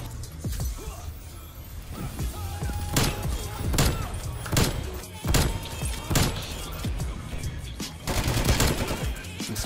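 Rapid bursts of gunfire in a Call of Duty game, sharp repeated shots in quick volleys, loud and close, with brief voice sounds between.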